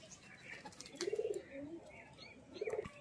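Indian Giribaz pigeons coo in soft, throaty bursts, two clear cooing phrases close by with light chirps and a brief flutter of wings in a quiet outdoor setting.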